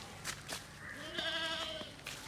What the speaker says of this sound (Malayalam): ഇത് വലിയ ബക്കരി